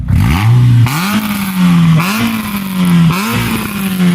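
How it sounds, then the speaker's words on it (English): A Renault Clio 172 Cup engine with a new exhaust revs hard several times in quick succession, loud and close, with a deep throaty exhaust roar rising and falling between each blip. "we're gonna give it a couple of revs outside the car now"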